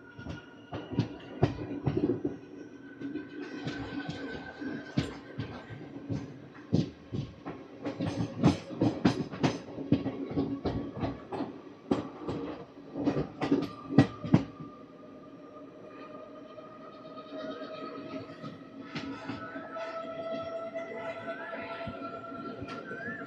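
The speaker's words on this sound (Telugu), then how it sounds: "మా ట్రైన్ అయితే స్టార్ట్ అయింది" The Tirupati-Puri Express pulls away from Kottavalasa station, wheels clattering over rail joints in a run of sharp, irregular clicks and clanks over a steady rumble, easing into a smoother hum near the end.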